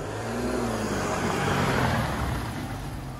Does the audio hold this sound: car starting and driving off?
yes